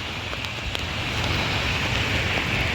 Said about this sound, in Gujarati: આ અમારા પાસોદરાની ખાડી છે જે બે કાંઠે વહી રહી છે.